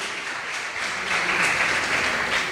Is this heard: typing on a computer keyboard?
no